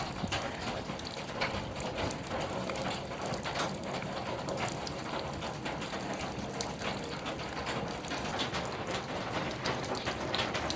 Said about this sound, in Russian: Капель.